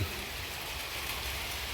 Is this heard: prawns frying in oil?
no